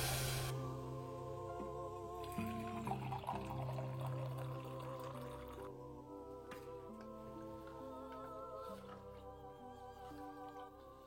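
Water poured over soaked biryani rice in a pot, a soft continuous trickle and splash, faint and close, with a steady tonal hum in the background.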